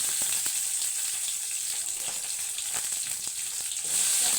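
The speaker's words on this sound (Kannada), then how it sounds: "ಈರುಳ್ಳಿ, ಚೆನ್ನಾಗಿ ಫ್ರೈ ಮಾಡ್ಕೋಬೇಕು" Onions frying in oil in a pan for paneer curry, a steady dense sizzle with faint scattered crackles and light stirring scrapes, close and continuous with no talk.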